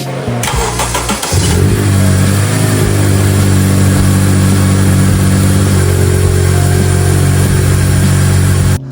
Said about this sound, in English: So as you guys can see there, we got the RBB manifold installed and we got it running.